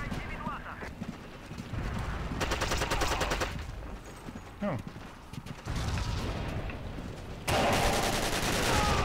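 Rapid automatic gunfire bursts in the World War II shooter Forgotten Hope 2, several loud rattling volleys separated by pauses, with a voice talking over parts of it.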